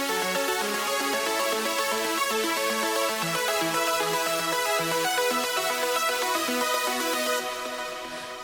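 Layered arpeggiated synth chords from Omnisphere patches form a dense, loud, continuous wall of rapid melodic notes that shift through chord changes, thinning slightly at the end.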